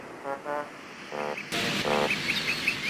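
Birds call in short, repeated tonal chirps with brief pauses between them, moderately close, over a soft ambient background that grows noisier partway through.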